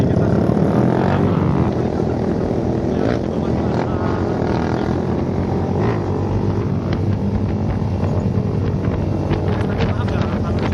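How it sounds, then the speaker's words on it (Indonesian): Exhaust note of a red Honda Vision motor scooter while riding, with a steady, loud engine drone under heavy wind buffeting and some talking throughout. "maaf ya kalau misalnya suaranya agak noise sama suara knalpot"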